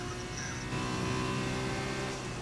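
Engine note of an F1 race car in the F1 2020 video game at a practice start, a loud sustained high-revving drone held steady and stepping up briefly, with no speech over it.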